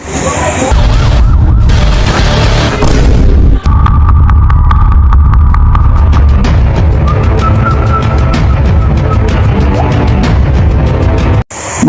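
Police car siren wailing loudly and continuously through most of the stretch, with a steady tone over heavy rumbling traffic noise and a brief break near the end.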